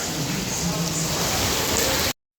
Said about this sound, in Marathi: आता आहे ना जोरदार एकदम धोधो पाऊस पडतोय बघा